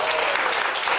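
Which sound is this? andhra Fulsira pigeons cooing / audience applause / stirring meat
audience applause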